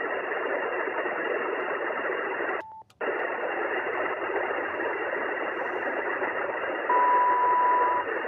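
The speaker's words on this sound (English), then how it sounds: "somebody's tuning up an antenna" Steady HF ham radio static on the 40, 20 or 10 meter band carries a long, loud noise-like signal from someone tuning up an antenna, with a brief dropout partway through and a thin steady tone near the end.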